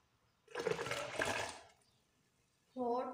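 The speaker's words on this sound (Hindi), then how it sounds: "ये पानी हमने डाल दिया।" Water is poured into a cooking pot while pasta is being prepared, a rushing, splashing pour lasting about a second before tapering off, followed by a voice speaking.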